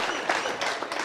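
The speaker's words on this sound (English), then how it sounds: "You can clap." Audience applause at a township business workshop in Katlehong, a brief, dense burst of many hands clapping together, fairly loud and filling the room.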